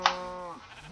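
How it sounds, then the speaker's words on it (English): A single sheep bleats once in the Minecraft video game, a short, clear, fairly close wavering call that trails off quietly. "I found a sheep up here."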